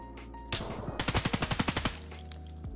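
Rapid automatic gunfire rings out in Escape from Tarkov Arena, a fast rhythmic burst of a dozen or so evenly spaced shots after a single opening report, loud and close.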